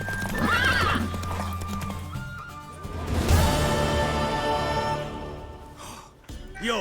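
Video-game horse hooves clip-clop steadily while a mare neighs and whinnies loudly, over a rumbling background with music-like tones.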